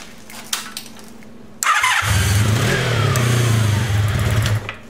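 A Honda Sabre motorcycle engine, part of a cafe racer project, cranks over and catches, then runs as a steady, loud, close idle for about three seconds after a quiet start before cutting off.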